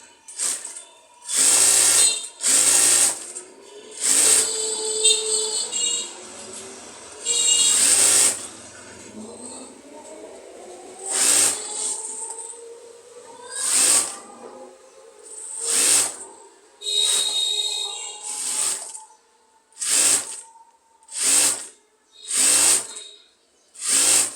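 A sewing machine stitching palazzo trousers runs in repeated short bursts, a steady rapid whirr starting and stopping over and over with brief quiet gaps, close and fairly loud.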